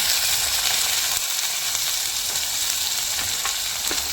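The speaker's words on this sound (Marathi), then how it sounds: "यामध्ये टमाटर घातलेला आहे मस्त परतून घेत आहे" Onion and tomato sautéing in a pan with cumin for an aubergine bharta, a loud, dense, continuous sizzle close by with faint stirring taps.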